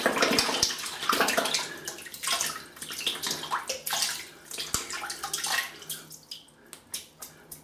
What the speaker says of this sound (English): wet the brush a little bit.